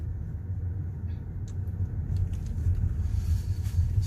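A Hyundai Grandeur IG 2.4 hybrid is driving, heard as a steady, subdued low rumble with faint road noise and no engine roar, continuing evenly throughout.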